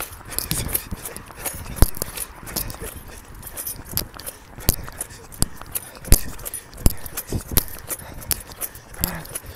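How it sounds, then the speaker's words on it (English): A bunch of keys jangles with each stride while a person jogs outdoors. Quick metallic clinks and taps sound near and steady, mixed in with footfalls and rustling. "Those are my keys."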